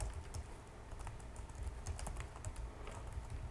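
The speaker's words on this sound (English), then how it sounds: "Type in an address that you want to send your email to" An email address being typed on a computer keyboard: steady, fairly quiet key clicks in an uneven quick rhythm, heard alone with no talking.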